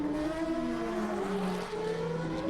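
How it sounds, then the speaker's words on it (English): A 2008 GP2 Series racing car engine, running slightly off song, drones steadily at a distance, its pitch rising and falling slightly as it runs, with no voices. "Somebody's engine sounds a little off song."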